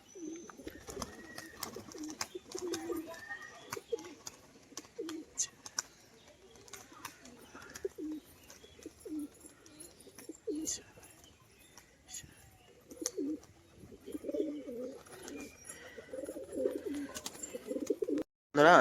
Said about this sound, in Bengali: দুটো রেসার পায়রা দেখুন বন্ধুরা, পুরো সেটিং পেয়ার, একই কালারের মধ্যে,